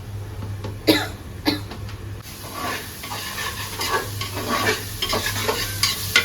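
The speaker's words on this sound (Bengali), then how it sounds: "তো এখানে আমার চিংড়ি মাছটা কষায় ফেলছি আমি।" Prawns stir-fry in a pan with a steady sizzle, broken by spoon strokes and scrapes against the metal, and a low background hum runs underneath.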